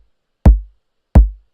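Two heavy club kick drums, layered and built in Ableton Operator, land about 0.7 seconds apart. Each one is a loud, punchy thump with a booming low tail that decays quickly, followed by silence.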